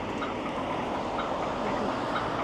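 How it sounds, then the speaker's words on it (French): Inside a Berlin tram heading toward Hermannstraße, a continuous rolling rumble and broadband rattle of the moving car fill the space at a steady level, with no talk. "On va aller prendre le tram"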